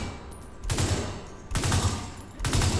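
Big Horn assault rifle fire in the shooter game The Division 2: three sustained bursts of rapid automatic gunfire, each about a second long, loud and close, with short gaps between them and no talking.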